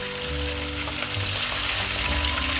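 Pieces of katla fish fry in hot oil in a pan for a fish curry, giving a loud, close, continuous sizzle and spatter with no talking.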